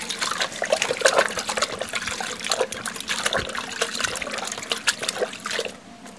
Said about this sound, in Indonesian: Sebentar ya, dulu saya coba cuci tangan dulu.